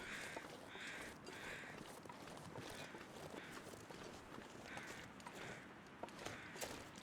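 Crows caw repeatedly in the snowy wilderness of The Long Dark, harsh rhythmic calls at a middle distance over a continuous crunching of footsteps through snow.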